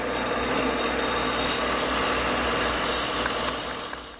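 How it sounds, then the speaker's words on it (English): Drill press fitted with a mortising attachment cutting a mortise in oak, giving a steady, loud grinding and rasping that runs continuously for a few seconds before easing off at the end. "the mortise is cut with this attachment I have on my drill press"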